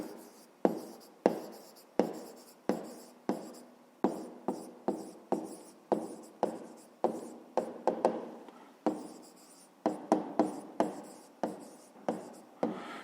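Pen or chalk writing out the answer to a fifth-grade math exercise: a steady run of short, scratchy strokes, close and fairly loud, with brief pauses between bursts and no voices.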